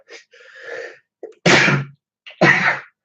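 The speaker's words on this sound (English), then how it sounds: "sorry, you get live sneezes even." Two loud, close sneezes, each preceded by a breathy intake, with soft gasping breaths before them.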